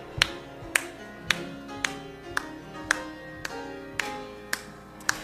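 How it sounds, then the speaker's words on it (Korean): A congregation claps steadily along to a hymn, about ten sharp, evenly spaced claps over a low, sustained organ-like musical bed with sung melody, the beat moderate and clear. "박수 치면서"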